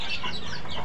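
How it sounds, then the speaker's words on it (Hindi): Chickens cluck in a brief, busy burst of overlapping calls, fairly close, with a steady background hiss. "तो देख सकते हैं मुर्गी उर्गी खाते हैं"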